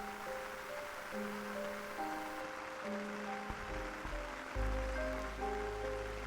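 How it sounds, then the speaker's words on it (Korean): Heavy rain falling by a long beach in Goseong, Gangwon Province, a steady hiss with low rumbling surges underneath and some tonal background notes, continuous and moderately loud, no talk. "세차게 비가 내리고 있다."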